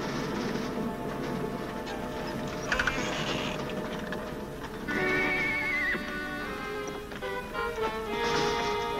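A horse whinnies repeatedly in long, shrill neighs over a constant background, with a brief knock or hoof clatter partway through, from a colorized 1950s western TV episode.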